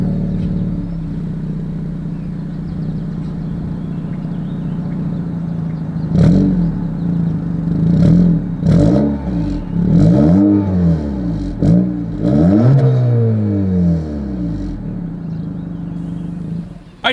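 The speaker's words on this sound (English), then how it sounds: "As always, here is that exhaust clip." A 2024 Acura Integra idles with a deep exhaust rumble, then revs sharply several times in quick bursts, each roar rising and falling back to idle.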